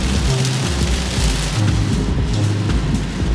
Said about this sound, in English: We're going out in the apocalyptic rain situation